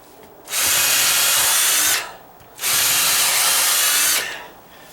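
A power drill drives screws into wood for a dry-rot deck column repair, backed by half-inch OSB: two sustained loud whirring bursts of about one and a half seconds each, separated by short pauses, with no talking.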